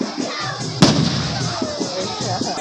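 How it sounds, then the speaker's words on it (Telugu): A firecracker goes off at a festival near a large pond, giving one sharp, loud crack over crowd noise and a faint voice. "టపాసులు కాలుస్తున్నారు."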